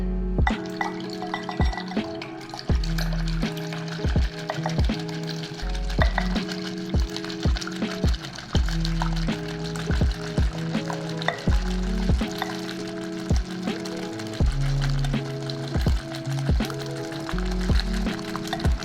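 Meringue whisked by hand to soft peaks, a rapid repeated clicking of the whisk against the bowl mixed with a wet frothy swish, steady and close over a constant background tone, without speech.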